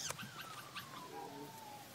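A small black puppy whimpers close by, giving one thin, drawn-out whine that slides gently downward after a few soft rustles.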